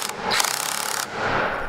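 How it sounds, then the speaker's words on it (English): Cordless drill straining to drive a stubborn screw, a close, harsh, gritty whir with rattling grind that cuts off briefly and then resumes, no talk. "The screw is stronger than my drill."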